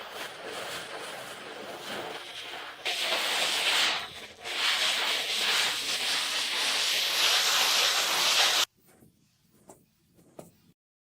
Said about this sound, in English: With the fine sandpaper, the fine grit abrasive sponge, I will do these movements.